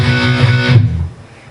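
Distorted electric guitar chords, loud and close, ringing with a thick gritty tone before cutting off abruptly and leaving a brief decaying tail.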